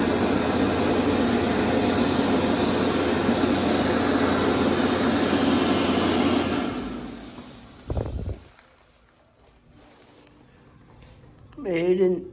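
A Bobrick B-750 hand dryer at the Hudson's Bay store in Metrotown blows with a loud, steady broadband roar for about seven seconds, then winds down and cuts off, leaving quiet room tone and a brief voice at the end.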